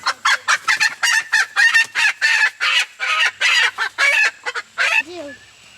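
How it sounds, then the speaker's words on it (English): Hens clucking busily in a rapid, irregular stream of short calls, close by and fairly loud, with a few brief, higher squawks near the end. "let's grab one of these hens and we'll go from there"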